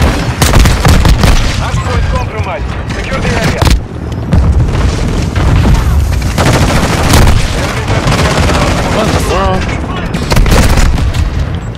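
Call of Duty Modern Warfare 2 match on the Shipment map, with grenade launcher explosions booming repeatedly among dense gunfire, loud and close, while players talk over the chaos.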